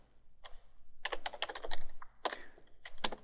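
Keys clatter on a computer keyboard while a command is typed, quick close bursts of clicks with short pauses between, fairly quiet with no talking.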